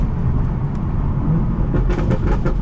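A dream car is driven on the road, its exhaust giving a loud, close engine roar that surges and crackles with pops through downshifts, continuous throughout.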